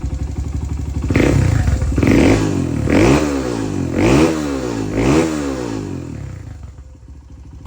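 A 1997 Honda XR100 dirt bike engine with a 22mm Mikuni carburetor revs hard in five repeated bursts, each rising and falling, with idling between, close and loud, settling down at the end.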